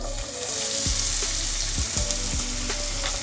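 Two large, finely chopped onions sizzle in hot oil in a pan, a steady close crackle broken by a few soft stirring scrapes and spoon knocks, with no voices.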